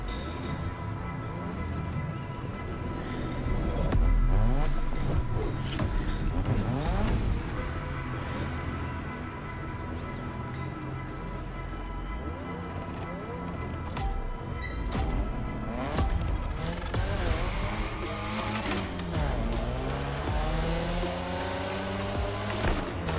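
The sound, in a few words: Mazda RX-7 car engine racing in video game The Crew Motorfest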